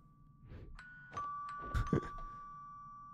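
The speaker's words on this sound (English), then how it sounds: "Someone's ringing the doorbell." A video-game doorbell rings a clear two-tone electronic chime that sustains over faint background sounds.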